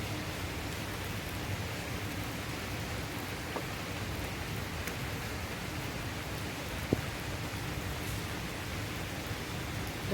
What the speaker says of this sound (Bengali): রাতে বেরিয়েছি আমি, বৃষ্টি পড়ছে